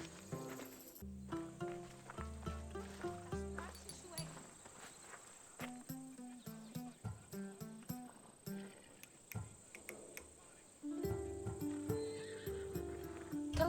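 A horse whinnies and its hooves clip-clop at a walk in the ancient Greek world of Assassin's Creed Odyssey, steady close hoofbeats with a neigh, under music and voices.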